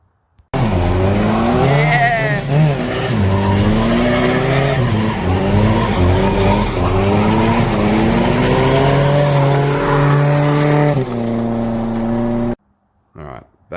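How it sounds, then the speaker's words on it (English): A car does a tyre burnout, its engine revving hard and rising and falling in pitch over a continuous tyre squeal, loud and close, before cutting off abruptly. "I said I would do a burnout"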